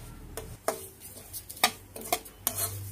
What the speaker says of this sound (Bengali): তো সুজিটাকে একটু আমি ভালো করে একটু ভেজে নিচ্ছি, আর এতে এবার দিয়ে দিচ্ছি 2টা তেজপাতা, সুজির সাথে তেজপাতাটাকেও ভেজে নেব।